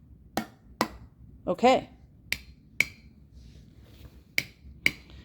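Lids of home-canned tuna jars tapped one after another, sealed ones giving sharp high-pitched tings and an unsealed one a duller thump, in about seven close, evenly spaced taps with a brief spoken word between.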